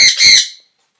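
Pet birds squawk indoors in a loud, harsh double burst lasting about half a second, the second call longer and shrill, then the sound cuts to silence.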